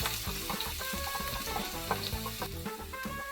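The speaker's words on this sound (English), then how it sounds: "So I'll go into a pan, into my wok pan with some vegetable oil. I'm going to go in with some onion." Onion frying in vegetable oil in a wok gives a steady, dense sizzle with small crackles and pops throughout, close and continuous with no voices.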